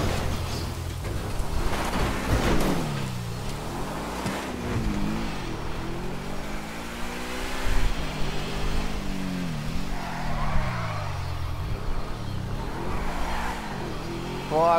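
A car drives off-road in the video game GTA V, its engine droning and rising and falling in pitch as it revs and shifts over about fifteen seconds, steady and fairly loud with faint rough-terrain rumble.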